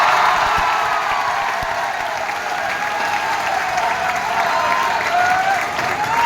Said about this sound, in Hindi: चलो बिंदास चाचा जी के लिए ताली बजा दो।